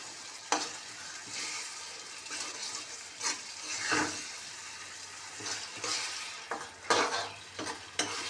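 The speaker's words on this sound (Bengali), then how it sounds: "এটা কষছি, অল্প অল্প করে এই যে জল দেব" Spice masala is stir-fried with small splashes of water, giving a moderate sizzle under repeated spatula scrapes and knocks against the pan. It is close up and has no talking.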